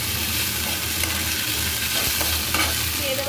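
Onions go into hot oil with black cumin and a green chili and are stirred. A steady frying sizzle runs close and constant, with scraping stir sounds in the middle.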